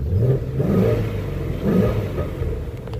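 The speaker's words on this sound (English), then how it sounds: "Just give it a couple quick revs." A 2018 Shelby GT350 engine revs up in a couple of quick bursts, a deep rumbling growl that rises and falls, close by with no talking.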